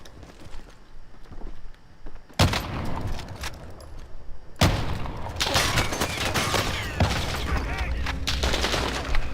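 Gunfire in Call of Duty Warzone, with bursts of rapid automatic shots and booming fusillades starting suddenly and continuing loudly, near and dense, with a voice talking in places.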